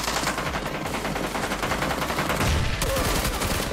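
Rapid bursts of automatic gunfire in a shooter video game, loud and close, rattling continuously with a brief heavier blast near the end.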